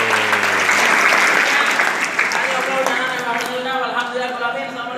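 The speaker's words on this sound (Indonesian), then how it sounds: "Tepuk tangan buat saya." An audience at a muhadharah speech practice breaks into loud, dense applause that continues throughout and gradually thins, with voices audible over the clapping.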